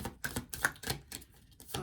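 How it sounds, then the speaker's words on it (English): Rapid, soft riffling and flapping of tarot cards being shuffled, a quick irregular series of papery clicks close by. "everything shuffles better when all the cards are together"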